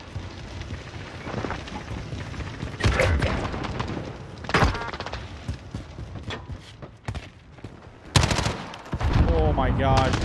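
Automatic rifle fire in a multiplayer shooter game aimed at a teammate, rapid loud bursts with sharp shot cracks and thuds, broken by short pauses and ending in a dense volley.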